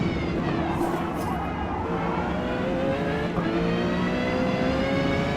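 A maxed-out car in Forza Motorsport roars steadily at high revs, a continuous loud engine drone with shifting pitch tones that holds for the whole stretch with no pauses.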